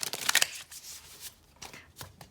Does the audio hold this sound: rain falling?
no